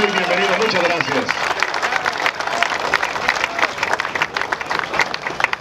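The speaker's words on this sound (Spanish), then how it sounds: "dar un fuerte aplauso, que se escuche ese aplauso" Strong, dense applause from an audience at a municipal sports awards ceremony, steady and sustained throughout with crowd noise mixed in.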